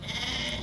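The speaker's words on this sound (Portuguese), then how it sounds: "Aqui, ó, 20 ovelhas e o carneiro." Sheep in a flock of twenty ewes and a ram offered for sale in Alagoas, northeastern Brazil, giving a single sustained bleat, close and fairly loud, over a noisy outdoor background.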